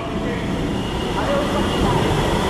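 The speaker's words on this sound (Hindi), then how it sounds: "ये एक मेट्रो यहाँ पे आ चुकी है" A Kanpur metro train pulls into a station, a steady broadband rumble of wheels and motors swelling slightly over a few seconds, with a voice talking over it.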